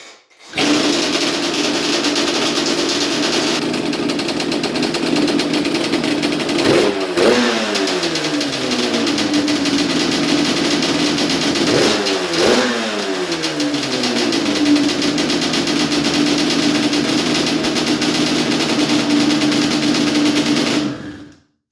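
A Yamaha Banshee engine fitted with a Chinese CDI, kick-started and then running alone, with a loud steady buzzing idle broken by two sharp revs that drop back down.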